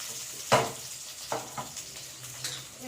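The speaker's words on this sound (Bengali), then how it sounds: "এবার আলুগুলোকে দিয়ে দিলাম, ভেজে নেবো আলুগুলোকে।" Potatoes for aloo chorchori hit hot oil in a pan with a soft sizzle, followed by a few scraping stirs and light clinks against the pan over a quiet background.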